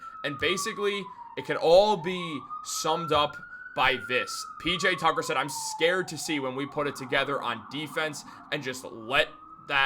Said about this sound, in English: If you hear a siren outside my apartment right now